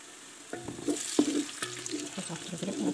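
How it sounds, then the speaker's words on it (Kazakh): Onions fry quietly in a pan while being stirred, with soft sizzling under scattered scraping and clinking of a utensil against the pan. "Пиязымыз қуырылып жатыр."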